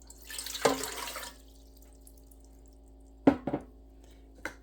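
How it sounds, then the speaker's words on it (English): Water is poured into a Ninja Speedi pot, a brief close splash with gurgling followed by a few scattered drips and clinks, against a quiet kitchen background. "To start, add 2 cups of water to your Ninja Speedi pot."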